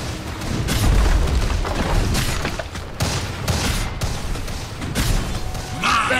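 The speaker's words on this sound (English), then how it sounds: "Radiant's top tower has fallen." Explosive booms and crashing bursts from a tower being destroyed in a Dota 2 match, loud and dense, with repeated heavy impacts over a dark game soundscape and a brief brighter crackle near the end.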